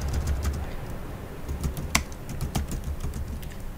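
Rapid typing of a command on a computer keyboard, steady close clicks with one sharper keystroke near the middle, no voices.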